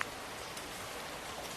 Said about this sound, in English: so this rain is awesome